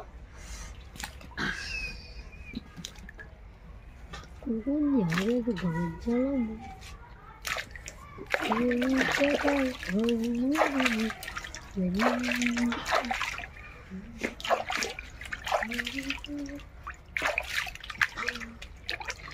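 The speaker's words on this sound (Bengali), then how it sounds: "তো গামলায় করে জল নিয়েছি, তো আলুগুলো আমি ধুয়ে নেব।" Potatoes are washed by hand in a basin of water, with intermittent splashing and sloshing while someone talks over much of it.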